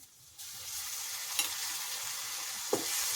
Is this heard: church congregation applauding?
no